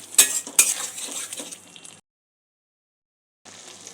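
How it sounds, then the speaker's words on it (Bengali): Masala spices frying in oil for a creamy North Indian paneer dish, with bright sizzling and scraping stirs and a couple of utensil clacks against the pan, then a sudden gap of silence before the sizzle resumes. "মশলা থেকে যতক্ষণ না তেল ছাড়ছে ততক্ষণ আমি কষতে থাকবো।"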